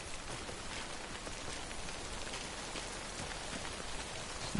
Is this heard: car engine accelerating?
no